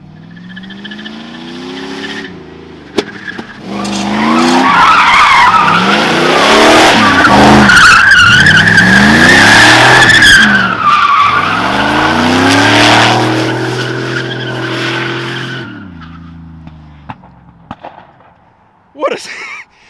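An LS-swapped G-body car slides sideways, its tires squealing loudly in a long rising and falling skid while the engine roars beneath, with short sharp bangs near the start and end.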